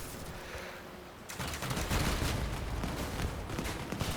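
Sustained weapon fire in the vehicle combat game Crossout, starting a little over a second in as a dense, steady barrage that stays loud to the end.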